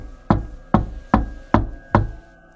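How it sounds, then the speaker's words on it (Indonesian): A bedroom door takes five sharp, evenly spaced knocks about half a second apart, each loud and resonant with a short decay, and no voices. "Kemudian muncul suara ketukan di pintu kamarnya berkali-kali."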